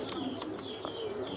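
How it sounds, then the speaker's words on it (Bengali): A male pigeon in a loft coos softly and briefly, a low murmuring call near the mic with a few faint clicks and rustles around it. "এই যে এটার বাচ্চা, এটা হচ্ছে নর কবুতর।"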